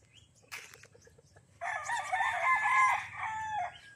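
Chickens and roosters at a gamefowl farm in Bauang, La Union, with a short cluck followed by a loud, drawn-out rooster crow close by.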